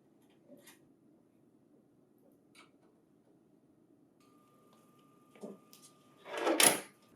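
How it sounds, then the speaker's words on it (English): A printer booklet finisher is installed: a few faint clicks and knocks, then a louder clunk and rattle as its door opens and the finisher is latched to the printer, with no talk. "Open the finisher door, and then secure the finisher to the printer."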